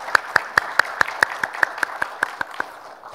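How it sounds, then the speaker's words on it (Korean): A congregation at a New Year's first church service claps in unison, about a dozen sharp, evenly spaced claps that slow slightly and fade toward the end. "우리 박수 한번 칠까요?"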